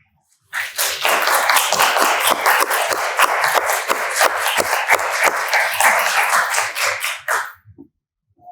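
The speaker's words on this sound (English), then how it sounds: "Can we give a round of applause to our organization?" Audience at a talk event on social media and adolescent anxiety applauds the organizers, with a close, crisp burst of individual claps from a modest crowd, steady for about seven seconds before stopping abruptly.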